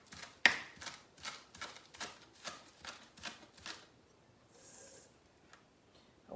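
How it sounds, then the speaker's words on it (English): A knife chops scallion tops on a cutting board in a series of about ten crisp, evenly spaced strokes, close and moderately loud, slowing toward the end with a brief rustle. "I'm going to chop up my escallion."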